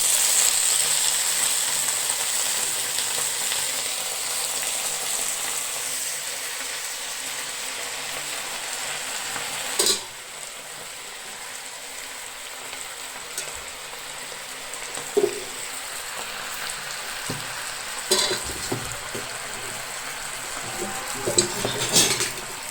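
Steady, loud sizzling of red amaranth greens frying in a hot pan, broken by occasional scraping and clinks of a spatula stirring.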